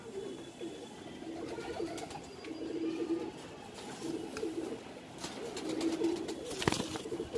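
Pigeons coo in repeated low, rolling phrases at a breeding setup housing Punjabi Malwai pigeons, several birds overlapping close by, with a brief flutter or knock near the end.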